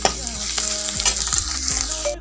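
Vegetables sizzle and fry in a pan just after turmeric goes in, with stirring scrapes and a steady crackle for a couple of seconds and no talking.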